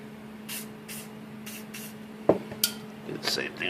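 WD-40 lubricant is sprayed onto window cleaning equipment in several quick, close hissing bursts. Sharp knocks and clinks from handling the gear follow.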